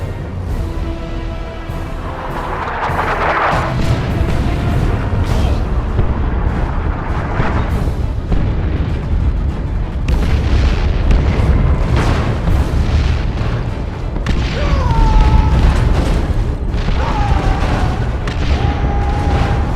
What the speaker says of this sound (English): Launch barrage!